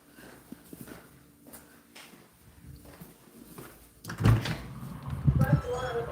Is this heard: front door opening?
yes